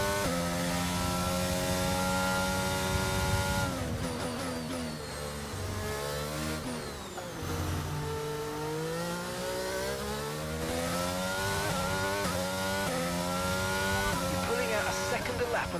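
Formula 1 race car engines in the video game F1 22, a loud, steady high-pitched whine rising and falling through gear shifts and corners, with a voice talking over it.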